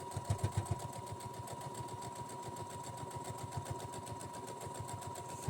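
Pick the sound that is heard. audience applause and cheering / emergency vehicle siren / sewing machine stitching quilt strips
sewing machine stitching quilt strips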